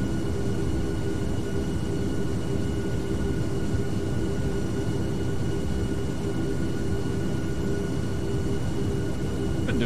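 Steady broadband engine and airflow drone of a Boeing 757 airliner in flight in Microsoft Flight Simulator, loud and constant throughout with no voices.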